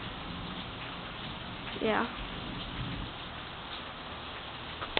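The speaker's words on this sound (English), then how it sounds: "And it's like warm rain, so it's like amazing. Yeah. I love the rain, especially in the summer," Warm summer rain falls at night as a steady, soft hiss. A voice speaks briefly partway through.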